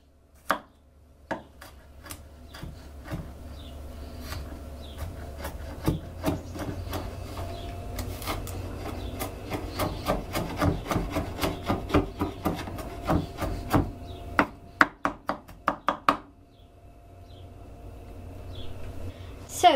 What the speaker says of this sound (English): Now I'm going to cut this one in half because it's slightly bigger to chop them, and then go and make them really small.